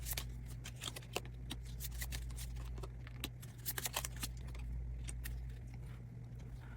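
Tarot cards being shuffled and drawn by hand at close range: quiet, rapid riffling and soft slaps of card against card, with sharp ticks scattered through the clip over a faint steady hum.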